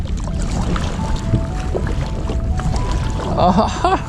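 Kayak paddles dipping and splashing on water in alternating strokes, soft watery swishes with brief louder splashes near the end, under people talking.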